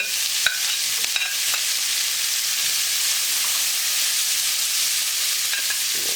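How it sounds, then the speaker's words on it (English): Celery, onions and carrots sizzle in a skillet for coq au vin, a steady, bright frying hiss that holds throughout, with a few light clicks from stirring near the start. "So let's start with our celery, onions, and carrots. It's all going into our pan like so."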